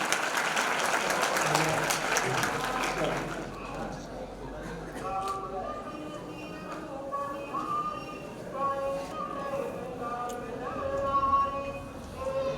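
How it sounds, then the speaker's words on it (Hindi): Loud crowd applause opens a community talent-honouring ceremony for the Dhakad samaj in Jhalawar, dying away after a few seconds as a voice speaks over quieter music and background murmur. "जोरदार तालियां होनी चाहिए उनके लिए"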